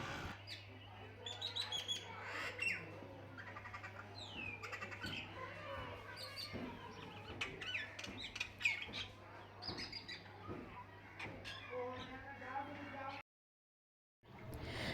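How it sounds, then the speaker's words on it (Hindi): Birds chirp and squawk outdoors in scattered, busy calls, with a steady low hum underneath and a brief drop to silence near the end. "बाहर चिड़ियों की आवाज़ें सुने आप।"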